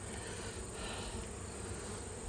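Honeybees buzz around a beehive frame during a hive inspection, a continuous, fairly faint hum from many insects with no voices.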